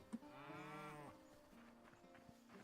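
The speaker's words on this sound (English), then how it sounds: "A moo to you, too." A cow in the video game Hytale lets out one drawn-out, tonal moo at moderate distance, fading into quiet ambient game sound with a few faint soft clicks.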